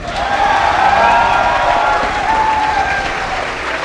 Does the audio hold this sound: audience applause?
yes